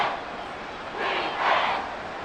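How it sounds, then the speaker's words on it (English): Arrowhead Stadium crowd roaring in the Madden NFL 24 football video game, a dense wash of noise that swells louder twice toward the end, with no voices standing out. "The Arrowhead crowd in full roar."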